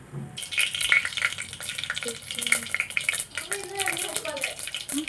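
Mustard seeds and onion frying in hot oil in a pan, giving a steady hiss with crackles and stirring scrapes, and a person talks briefly over the cooking.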